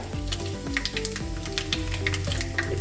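Dried red chillies and cumin seeds tempering in hot oil for a ponnanganni greens stir-fry, a steady close sizzle with sharp crackling pops over a low hum.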